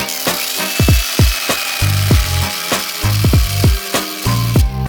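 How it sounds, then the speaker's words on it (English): A Dremel rotary tool cuts a slot into a tamper-proof screw on an Audi RS3 intake install, making a run of short, loud whirring grinding bursts that rise and fall in pitch, with no talk over them. "So we have to like Dremel a line in here and then twist a flathead to get it out."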